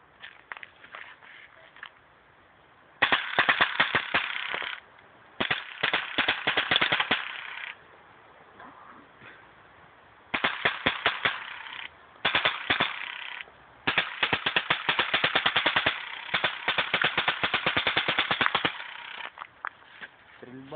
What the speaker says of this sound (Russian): Стрельба из дрозда,